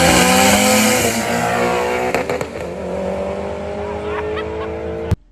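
A fast red Hyundai roars past close by, its loud revving engine dropping in pitch as it goes, before ending in a sharp knock.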